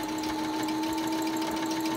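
Sewing machine stitching along the edge of a fabric fold on a little black dress, a steady continuous mechanical hum with a constant tone, close and uninterrupted, no talking.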